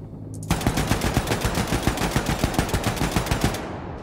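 Rapid automatic gunfire in a video game, a loud sustained burst of evenly spaced shots lasting about three seconds before cutting off, with no voices.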